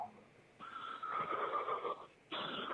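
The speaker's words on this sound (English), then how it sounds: "There's that heavy breathing from the other Linda Lane call" Heavy, raspy breathing comes through a thin phone line during a call in two drawn-out breaths, fairly quiet and close.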